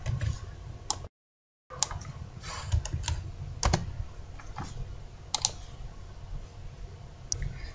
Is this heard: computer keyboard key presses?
yes